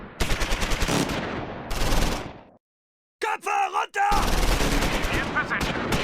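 Bursts of gunfire in Close Combat 4, a Battle of the Bulge wargame, as a recon squad fires on a German sniper on a rocky cliff: two loud rattling volleys, a silent gap with a brief tonal effect, then a long sustained burst.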